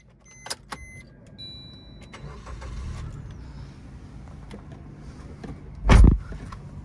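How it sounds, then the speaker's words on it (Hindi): A 2012 Maruti Suzuki Baleno starts up, with a few interior clicks and a whirring electric sound before the engine cranks and catches in one loud burst near the end. "ये इसका इंजन स्टार्ट करके देखते हैं।"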